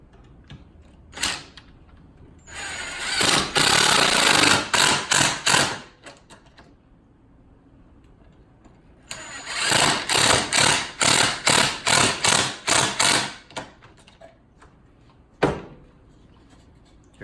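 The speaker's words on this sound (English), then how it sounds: "So now we're going to put our second leg, attach it with our screws for our pocket holes." Power driver sinking pocket-hole screws to fix the leg of a farmhouse-style end table, heard as two close, loud bursts of whirring drive with rhythmic stuttering pulses, separated by quiet handling clicks and a sharp knock.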